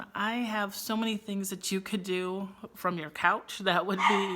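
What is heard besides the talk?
dog barking and whimpering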